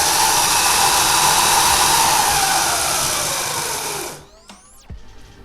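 A Razor electric bike with an extended swing arm runs at full speed with a loud, close whine of motor and chain, then winds down into a falling tone that fades away as it slows.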